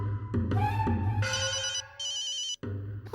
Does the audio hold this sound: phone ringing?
yes